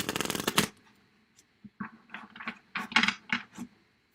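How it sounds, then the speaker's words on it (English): Tarot cards shuffled in a long riffling burst, then drawn and laid down in a series of short, close papery slaps and flicks, with no talk. "I'm going to pull a card now for Judith, then Ondine, then Grayson"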